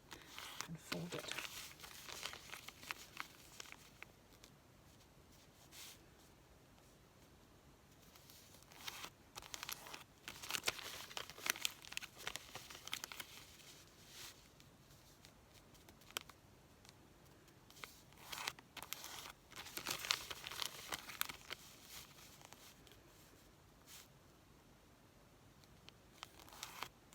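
Recycled wrapping paper crinkles and rustles softly as it is folded into a star decoration, with faint intermittent crackles and creases up close in a quiet room.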